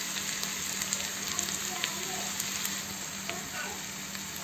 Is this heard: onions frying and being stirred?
yes